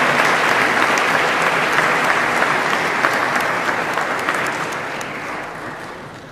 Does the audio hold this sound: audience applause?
yes